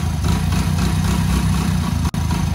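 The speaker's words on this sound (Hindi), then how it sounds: "बाइक स्टार्ट करने के बाद थोड़ा सा कोल्ड स्टार्ट करना चाहिए" A Hero Splendor motorcycle engine idles steadily just after a cold start, a close, even, low throbbing rumble with a momentary dropout near the end.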